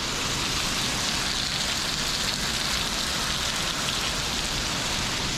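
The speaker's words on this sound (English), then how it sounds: "Well, hopefully you can hear me over the rain." Heavy monsoon-like rain pouring outdoors, a dense, constant, loud roar of drops drumming on surfaces with no break and no voices.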